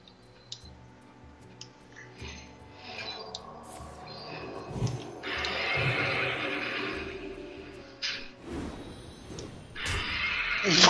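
A horse neighs several times in a video game, the whinnies rising over a busy bed of game music and effects that swells louder toward the end.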